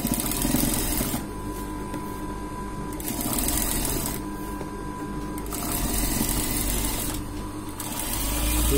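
A sewing machine stitches piping along the edge of a boat-neck blouse, a rapid mechanical whir that runs in bursts, pausing and restarting at about three points.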